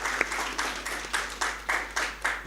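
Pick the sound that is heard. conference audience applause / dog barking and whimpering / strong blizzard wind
conference audience applause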